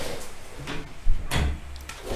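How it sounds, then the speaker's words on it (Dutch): A door is pushed shut nearby: a soft scrape, then a solid wooden thud and a brief knock, with no one talking. "ik doe even weer de deur dicht"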